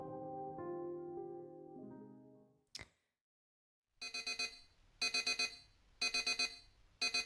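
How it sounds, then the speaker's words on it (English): A video game alarm clock blares in a series of loud, harsh beep bursts. Soft musical tones and a sharp single hit come first, then a short silence before the alarm. "The typical sound of your alarm blaring slowly got you your consciousness back."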